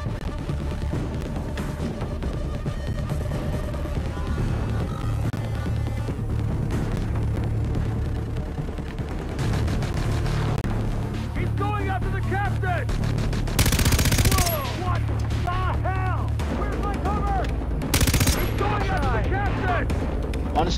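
Sniper and automatic gunfire from Far Cry 3 combat, with repeated loud shots and bursts over a dense game soundtrack, plus a couple of sharp louder blasts later on.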